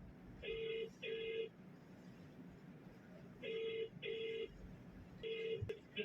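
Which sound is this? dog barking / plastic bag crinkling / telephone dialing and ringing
telephone dialing and ringing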